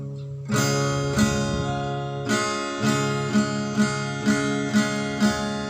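A guitar chord plucked, then strummed again several times in a steady rhythm, ringing clearly with no voices.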